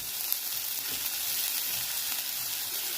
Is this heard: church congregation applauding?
no